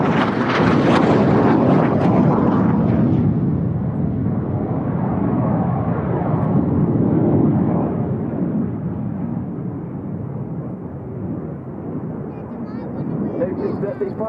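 Aerobatic display jets performing a crossing manoeuvre at the RAF Cosford Airshow, a loud continuous roar that swells and fades over wind buffeting, with a commentator's voice running throughout.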